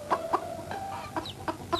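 Hens clucking in a small, cramped enclosure, a few short clucks spaced irregularly at close range, with no one talking.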